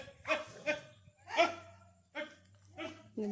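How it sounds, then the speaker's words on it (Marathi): Dogs fighting, snarling and barking in short, agitated bursts close by, with a low steady hum underneath. "कुत्रे पण भांडताय हे बघा"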